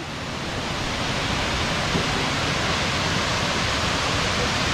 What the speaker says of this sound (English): Absolutely amazing waterfall.